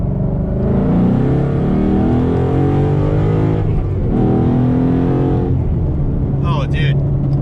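Car with an MT-82 manual transmission accelerating hard, engine note climbing through rising harmonics, dipping at a gear change near the middle and climbing again, loud and close.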